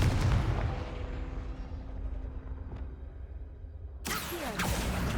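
A Confringo blasting spell explodes in the video game Hogwarts Legacy, giving a booming burst that fades away, then a second sharp blast near the end.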